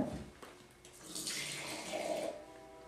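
Boxed red wine poured and swirled around a wine glass for a rinse, a brief close liquid splash and sloshing swirl, quiet and without talk.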